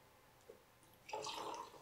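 A splash of cranberry juice poured into a Halloween cocktail, a short quiet pour of liquid that starts after a faint tick and runs steadily to the end, close by.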